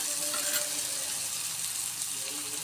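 A dahi tadka frying in a pan, gently stirred, gives a dense continuous sizzle that stays close and loud throughout with no pauses.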